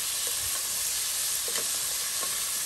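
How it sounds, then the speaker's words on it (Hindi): Potatoes frying in a pan over high flame, a continuous dense sizzle with faint stirring scrapes, steady and close throughout. "और इसको हाई फ्लेम में 2-3 मिनट तक फ्राई कर लूँगी।"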